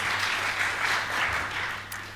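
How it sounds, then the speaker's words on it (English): An audience at a big data technology conference in Belfast gives a short round of applause, a dense wash of clapping that swells gently and tapers off within about two seconds. "Give Tom a round of applause there"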